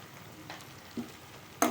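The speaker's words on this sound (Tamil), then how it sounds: "இதை நல்லா கிண்டி விட்டுருவோம்" Tomato and spice mixture with chilli powder, turmeric and salt frying in a pan for Chettinad mango mandi, stirred with a few soft scraping strokes and a brief sharper clink near the end, fairly quiet and without talk.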